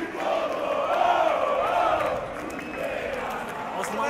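A dense crowd of football supporters in the stadium stands at the 2012 Copa do Brasil semifinal between Coritiba and São Paulo chants and sings loudly and continuously, with a wavering sustained roar.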